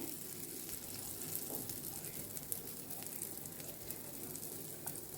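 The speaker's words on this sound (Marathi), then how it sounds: "आतां तेज्या वर घालता कांदे." Onions frying in a pan, a faint steady crackling sizzle with light popping, heard alone at low level.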